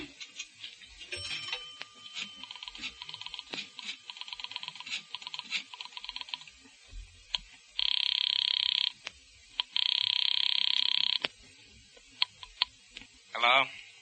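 A wall telephone rings in loud, steady electronic bursts, two long rings standing out after earlier softer clicks and tones, with faint talk around it.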